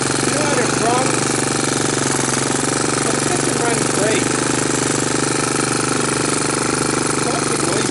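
A Honda TRX200SX ATV engine runs loud and unmuffled with a harsh, steady rattling drone throughout, up close, while a voice speaks briefly over it.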